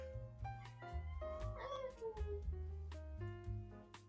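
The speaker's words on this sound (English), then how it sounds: "she's meowing a little because I'm" A cat meows several times, soft and drawn out, under and between a person's talking.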